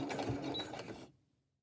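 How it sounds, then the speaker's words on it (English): A sewing machine stitches a skirt seam, a steady mechanical whirr running for about a second with a brief backstitch, then stopping abruptly into near silence. "So let's start stitching. We back stitch a couple, then we front stitch"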